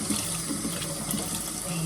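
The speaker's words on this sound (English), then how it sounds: "I'm gonna go ahead and turn on the cold water." Cold water runs steadily from a tap into a sink, a close continuous hiss and splash with no break.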